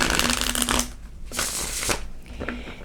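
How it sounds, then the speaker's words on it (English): Tarot cards being shuffled in bursts of crisp riffling and rustling, close and fairly loud, with brief pauses between passes and no talking. "let's use some tarot cards now"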